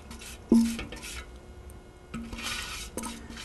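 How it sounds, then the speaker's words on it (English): A spatula scrapes around a mixing bowl of pecan praline ice cream mixture, a few separate scrapes and knocks, close and fairly quiet, with no talking. "Scrape this bowl, make sure I get out all the good stuff."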